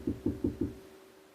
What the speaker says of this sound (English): one of them got out of the car and came up and started knocking on my driver's side window